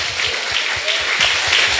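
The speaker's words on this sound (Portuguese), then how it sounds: "E pode aplaudir o Senhor." A congregation applauds during a church service, giving a loud, dense wash of clapping with a steady underlying beat across the short stretch.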